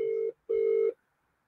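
A telephone ringback tone purrs twice as an outgoing call rings on a live stream, two steady near tones of about half a second each with a short gap between them.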